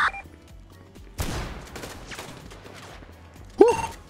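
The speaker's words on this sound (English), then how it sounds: "he did some shooting to me" Gunfire in Grand Theft Auto V: a sudden loud burst of rapid shots rolls into echoing crackle, followed by another sharp close blast near the end.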